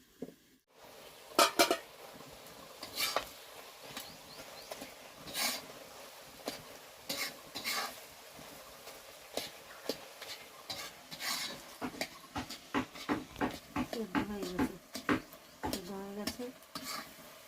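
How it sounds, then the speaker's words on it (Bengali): Potatoes and eggplant are stirred in a cooking pan, a spatula scraping and clinking against the metal in repeated strokes over a soft sizzle, close and moderately loud, with a few sharper knocks near the end. "নাড়াহাড়ি করে দিলে আলু বেগুন সব মিশে যাবে একসঙ্গে"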